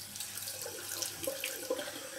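Tap water runs steadily into a sink during a rinse after a double-edge safety razor shave with a Parker 22R, a continuous close hiss with small splashy bursts and no talking.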